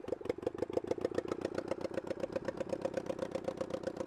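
An old, neglected motorcycle with no exhaust idles bare and loud nearby, its rapid, even popping beats clattering on without pause or speech.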